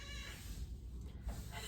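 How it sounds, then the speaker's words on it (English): A pet cat meows indoors in a short, faint burst over low background hum, with a rising cry near the end and no talk. "My cat is losing her mind."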